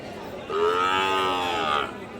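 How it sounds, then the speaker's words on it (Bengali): A Sahiwal bullock gives one long, loud moo lasting over a second at a cattle market, close by, over a quiet murmur of background noise. "এই মুহূর্তে দেখতে পাচ্ছেন হাই কোয়ালিটি সম্পূর্ণ বলদ আবাল গরুগুলি, শাহিবাল জাতের গরুগুলি এই মুহূর্তেও আছে"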